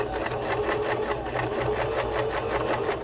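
A sewing machine stitches close along the edge of a handmade bra, running continuously at a steady rapid rhythm, close and fairly loud, with no talking.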